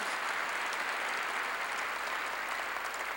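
A church congregation breaks into steady, dense applause that fills the whole space evenly from start to finish, a broad wash of many hands clapping together with no talk over it.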